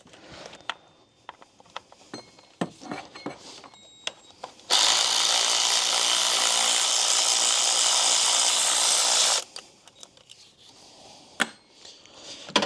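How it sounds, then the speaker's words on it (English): An electric ratchet removes bolts on a Toyota 2UZ-FE 4.7L V8 engine. One loud steady buzzing whir lasts about five seconds in the middle, with clicks and light clanks of tools before and after. "an electric ratchet will definitely help you speed up this job by a lot."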